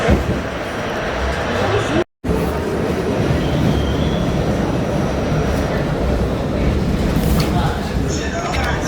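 An MTA R68A Q subway train runs between stations on the ride from Coney Island toward Times Sq-42 St, a loud steady rumble of wheels and rails with a brief dropout and faint squeals near the end.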